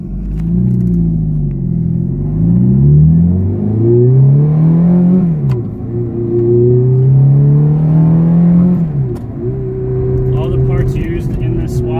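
A Ferrari F430 converted to a 6-speed manual gearbox accelerates on a road drive, its engine loud and close from inside. Revs climb and fall repeatedly through gear changes, with a steady roar between shifts.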